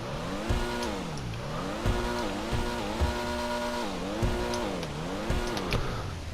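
A Pfister Comet SR sports car engine in GTA Online drones and revs repeatedly, pitch climbing and dropping through gear shifts, loud and continuous with occasional clunks.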